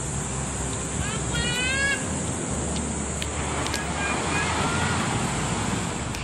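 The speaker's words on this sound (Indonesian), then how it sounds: "Ombaknya di sini memang lumayan kenceng ya" Ocean waves rolling onto the beach at Jimbaran, Bali, a steady broad surf wash with gusty wind buffeting the microphone and a voice talking partway through.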